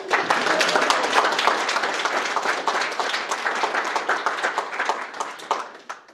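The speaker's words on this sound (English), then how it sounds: "give her a big round of applause" An audience at a school superintendent's student-of-the-month presentation claps for a student standing to be recognized, a full round of many hands with distinct individual claps, loud at first and tapering off near the end.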